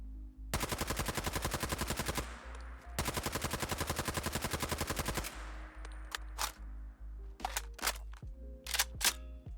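A New Vegas light machine gun fires in Fallout 4: two long, steady full-auto bursts of crisp, rapid shots, each lasting about two seconds, followed by sharp mechanical clicks and clacks of reloading.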